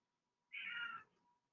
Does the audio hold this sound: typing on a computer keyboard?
no